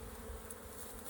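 Honey bees inside a hive box, on the verge of swarming, give off a soft, continuous low hum, faint and steady throughout with no voices.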